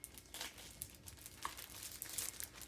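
Shiny sticker paper being handled, making faint, close crinkles and crackles in irregular bursts, with no voices.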